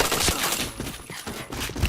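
Gunfire in the shooter game PointBlank crackles in rapid, dense bursts over a couple of seconds, loud and close, with a brief dip midway.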